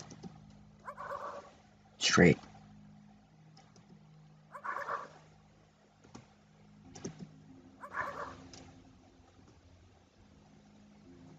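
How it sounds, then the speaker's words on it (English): Dogs bark in a horror video game, heard as three spaced bursts that sound fairly distant, with a voice talking between them over a low ambient drone. "We followed the sound of the barking."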